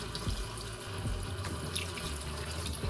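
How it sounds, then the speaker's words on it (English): Water runs steadily from a kitchen sink tap during home cooking prep, a continuous splashing rush with a few drips and clinks, close and fairly loud throughout with no talking. "Take the back of your hand, your arm, and turn that water on."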